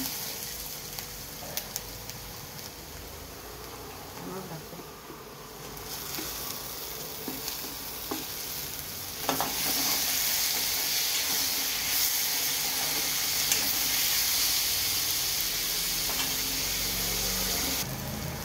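Chopped tomatoes go into onions frying in a pan, with a hissing sizzle that swells louder about midway and then holds steady, broken by occasional light stirring clinks, close up with no voices.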